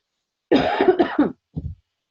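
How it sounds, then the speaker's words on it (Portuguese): A woman with a cold coughs: a rough run of close hacking coughs, then a short pause and a smaller second cough, in an otherwise silent room. "Eu peço desculpa para você por essa tosse, tá? Mas eu realmente estou meio resfriada."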